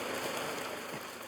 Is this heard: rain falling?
yes